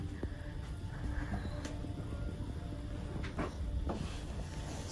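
Drawer opened in a cruise ship cabin while unpacking clothes, a few soft knocks and slides over steady cabin hum.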